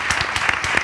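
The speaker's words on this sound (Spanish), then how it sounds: "pues un aplauso para ellos, hombre" Audience applause for a band, a short burst of several pairs of hands clapping close by, with distinct claps audible within the steady wash.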